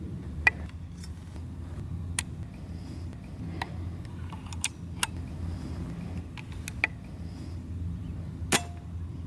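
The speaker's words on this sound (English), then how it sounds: "Here's a sample of that side lever action." Side lever action of an Air Arms S510 Tactical air rifle, heard as a scattering of sharp, separate metallic clicks and snaps spread over several seconds, close by and fairly quiet against a low steady background hum.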